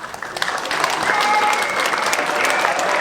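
An audience at a school stage production of Dracula breaks into loud, sustained applause, dense clapping with a few scattered cheers holding steady for several seconds.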